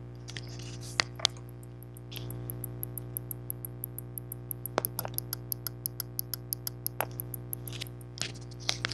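An electromagnetic relay in an RC circuit clicks in rapid, steady ticks close up over a constant electrical hum, with a few louder clacks and rustles scattered through.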